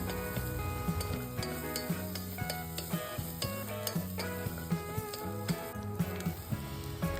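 Chopped ginger and garlic sauté in a pan, a soft steady sizzle with repeated light stirring scrapes, set against faint background music.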